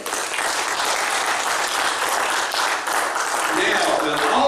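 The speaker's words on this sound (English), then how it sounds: "Give the Lord a hand clap and pray." Church congregation clapping their hands together, dense continuous applause filling the room at steady loudness from start to finish.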